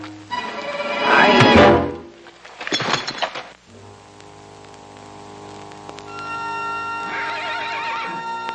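Loose horses in a 1941 western neigh and whinny loudly up close, followed by thumping hoof sounds and a second burst of whinnying, with a patter like rain beneath.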